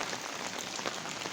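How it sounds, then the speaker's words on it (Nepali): Light drizzle falling on a road along Rajdevi Road toward the market, a steady soft hiss of rain with no talk. "हेर्न सक्नुहुन्छ अहिले झिमझिम वर्षा भइरहेको छ"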